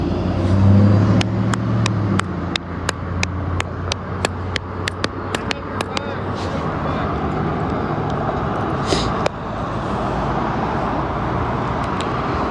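Cars cruising along a city street on a Sunday, a continuous loud roadway rumble with engines passing nearby, punctuated by a rapid series of sharp clicks or taps early on.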